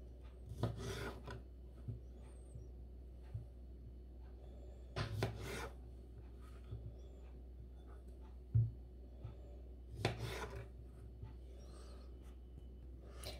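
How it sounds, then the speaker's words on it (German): A knife slicing tomatoes in half for a low-carb pizza topping, with a few short, quiet cutting strokes and soft board contacts spaced out over a faint background hum. "die Tomaten hier, die schneide ich erstmal halb"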